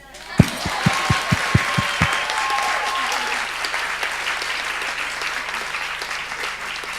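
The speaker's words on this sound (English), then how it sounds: "That's where you applaud." An audience welcomes the first panel of a women's discussion event, starting with a few sharp, close claps that swell into steady applause from the room, which tapers gradually, with a brief voice near the start.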